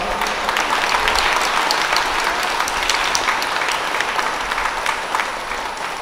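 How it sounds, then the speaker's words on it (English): Steady applause from a large crowd at a First Holy Communion Mass, dense and sustained for the whole stretch, with no voices standing out. "Can we give them a big round of applause?"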